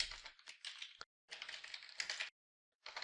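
Quick clattering keystrokes on a computer keyboard while entering a banner on a Cisco ASA 1000V firewall, typed in bursts with short silent pauses between, close and fairly quiet.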